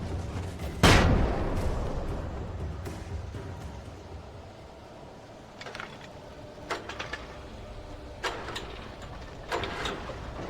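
Flashbang blasts in the video game Alan Wake: one loud, sharp broadband burst near the start, then a dull ringing drone with a few brief, fainter sharp bursts and clicks later on.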